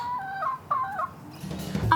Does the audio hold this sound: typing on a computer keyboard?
no